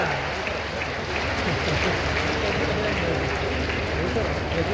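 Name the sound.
crowd clapping loudly at political event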